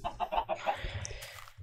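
Chickens in the video game Minecraft give a quick run of short, clipped clucks, close and clear, followed by a softer fowl noise in a very brief moment.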